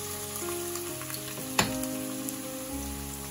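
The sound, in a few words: onions frying in hot oil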